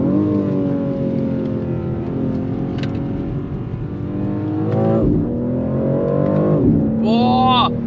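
The engine of a BMW X4M Competition SUV drones steadily as it is driven hard through corners, its pitch rising and falling with the throttle, and a voice talks over it.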